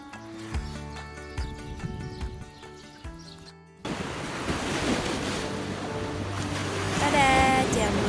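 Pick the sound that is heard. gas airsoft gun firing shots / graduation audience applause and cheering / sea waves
sea waves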